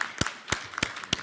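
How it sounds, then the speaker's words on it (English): Scattered, slow claps at a public policy congress as Newark mayor Ras Baraka is welcomed on stage: four distinct sharp claps spaced about a third of a second apart, fairly faint over a quiet room. "Let's bring him on with a round of applause"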